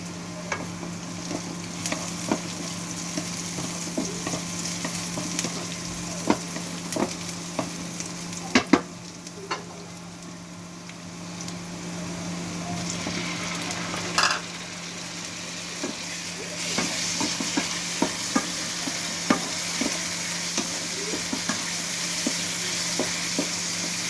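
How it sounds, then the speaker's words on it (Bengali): Quiet, continuous sizzle of river prawns frying with onions, with intermittent stirring scrapes and clicks, low and steady throughout. "পেঁয়াজের ভিতরে আমরা একসাথে চিংড়ি মাছগুলো ভেজে নেব"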